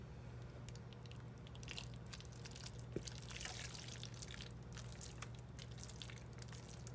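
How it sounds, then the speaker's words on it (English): Hash brown casserole mixture is scooped and spooned into a greased casserole dish, giving soft, wet squishing and dripping sounds with a few faint crunchy bites, close and quiet over a steady low hum, with no talking. "now we're just going to put our hash brown mixture over into this casserole dish"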